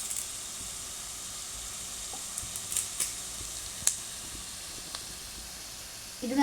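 Curry leaves dropped onto sautéed onions in a pan for a chicken and ash gourd curry, a steady soft sizzle with a few sharp crackling pops, fairly quiet and close, with a clatter at the end.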